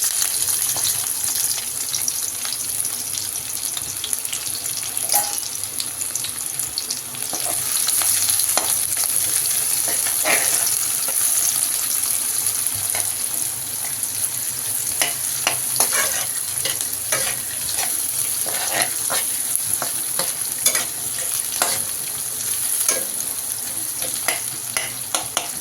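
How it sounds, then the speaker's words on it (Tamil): Onions and tomatoes sautéing in hot oil give a continuous crackling sizzle, broken by frequent sharp pops and stirring scrapes, close and steady throughout with no talking. "வெங்காயம் தக்காளி வதக்கி அதை அரைக்க போகிறதுனால கொஞ்சம் நல்லா பெருசாகவே சேர்த்துக்கலாம்"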